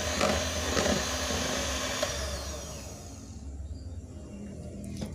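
An electric mixer whirs at low speed through jackfruit sponge cake batter, a steady motor drone with faint scraping that eases and softens partway through, close by and without speech.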